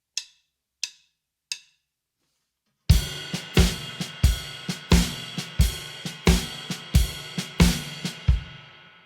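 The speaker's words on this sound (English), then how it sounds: "quarter notes accented on the ride cymbal and only the 2 and 4 accented on the snare drum" A drum kit plays a slow shuffle groove, with quarter notes on the ride cymbal and accented snare hits on the second and fourth beats. It opens with three isolated sticks clicks, then a steady, close, even rhythm of crisp strikes with ringing cymbal wash.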